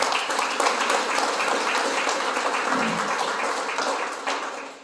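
An audience at a Tamil institute awards ceremony in Clairwood, South Africa, claps steadily in a full, sustained wash of applause that fades slightly toward the end.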